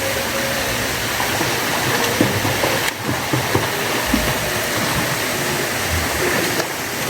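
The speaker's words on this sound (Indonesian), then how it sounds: "Dan ini airnya langsung mengalir." Steady broadband rush of water flowing down a rocky stream at Kedung Lesung, constant and fairly loud, with no voices over it.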